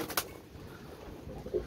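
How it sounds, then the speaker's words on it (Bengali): Pakistani Teddy pigeons coo softly in a loft, a faint low murmur behind steady background noise with a brief sharper sound near the start. "আরও অনেক ধরনের এখানে টেডি কবুতর আছে"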